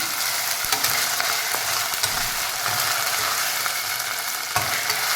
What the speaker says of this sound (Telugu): అల్లం వెల్లుల్లి కొంచెం వేగనిద్దాం